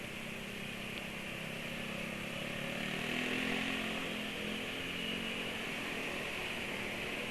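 Motorcycle engine idling steadily after an oil change to Mesran SAE 40, a continuous close-up mechanical drone with a faint ticking rattle, holding even throughout with no voices.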